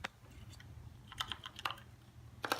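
Keys tapped on a computer keyboard's arrow keys in quick, irregular clicks, close and quiet, with small bursts of several presses clustered together.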